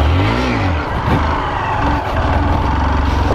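A video game motorcycle engine that bogs down and lacks acceleration revs in a loud, steady drone that holds throughout with only slight surges.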